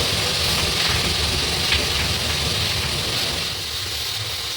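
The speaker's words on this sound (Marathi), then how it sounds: "जे सगळं स्टीम जे होती त्या स्टीमचं सगळं ते पाणी असं बाहेर निघत आहे" Steam is released from a cashew nut processing boiler in a loud, steady, broadband hiss and rush that holds at nearly constant strength throughout, easing off only slightly toward the end, with no voices.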